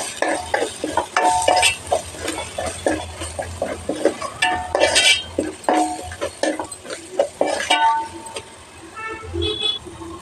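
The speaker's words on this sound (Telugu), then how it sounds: "ఇప్పుడు ధనియాల జీలకర్ర పౌడర్ 1 స్పూన్ వేస్తున్నాను. ఇవన్నీ బాగా కలుపుకోవాలి." Coriander-cumin powder is worked into a fish curry base in a pan, with loud, close scraping and stirring strokes over a low sizzle, and background voices and street noise faintly underneath.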